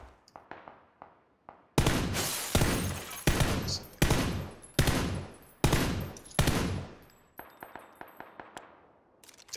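Rapid bursts of gunfire in the battle-royale video game PUBG, several loud clustered volleys with short gaps, ending in scattered lighter shots.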